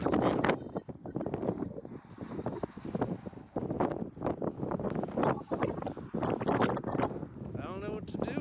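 Strong wind buffets a microphone at a campsite in New Zealand, a loud, constant gusty rumble with rushing bursts, while a person talks over it.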